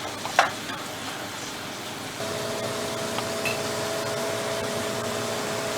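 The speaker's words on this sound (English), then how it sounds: "it says toss, stirring often for 1 minute until tossed" Curried beef fries with shawarma sauce in a pan as it is tossed and stirred; a faint steady sizzle with a brief clatter near the start, fairly quiet and without talk.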